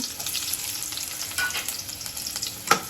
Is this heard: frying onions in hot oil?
yes